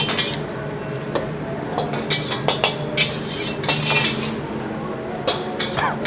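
Vegetables and spice paste are stir-fried in a hot wok in a restaurant kitchen, with rhythmic metal clanks and scrapes of the ladle over a low sizzle, close and busy.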